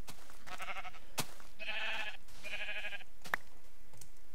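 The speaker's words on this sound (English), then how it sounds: "Okay, so I see some sheep here." Sheep bleating in the Minecraft video game, three or four short wavering baa calls in quick succession, close and clear, separated by a few faint clicks over a quiet background.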